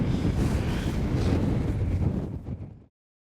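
Strong wind gusting outdoors during a long-range elk hunt in Oregon, a loud, steady roar buffeting the microphone for about three seconds before cutting off abruptly.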